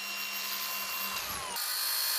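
A high, whining electric chainsaw grinds continuously through steel wire rope at a road crash repair site, its pitch shifting partway through, loud and close with no voices.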